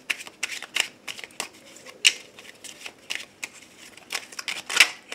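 Angel oracle cards being shuffled by hand for a reading, a quick series of close, crisp riffling swishes and card flicks in an irregular rhythm.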